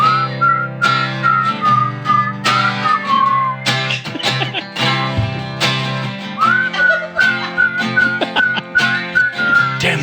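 Clear, close whistling carries a tune with long held and gliding notes over a steady musical backing.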